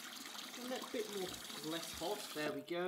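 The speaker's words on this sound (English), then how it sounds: "Now let's fill it up with cold water just to make it a bit more..." Cold tap water runs into a basin being filled to wash a gas mask, a steady close splashing hiss. A person talks over it all the way through.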